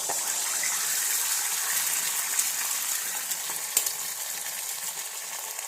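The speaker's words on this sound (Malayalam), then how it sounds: "നല്ലപോലെ എണ്ണ തിളച്ചിട്ട് വേണം മുട്ട പൊട്ടിക്കുന്നത്" Eggs frying in hot oil in a pan, the eggs straight from the fridge: a steady, close, hissing sizzle runs throughout with a few brief crackling pops and no talk.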